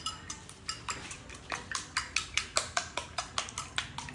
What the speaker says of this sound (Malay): Okey, telur ni kita kocok sikit.